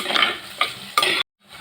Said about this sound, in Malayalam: അപ്പൊ നമ്മുടെ അമ്മ കാര്യമായിട്ട് ഇളക്കിക്കൊണ്ടിരിക്കല്ലേ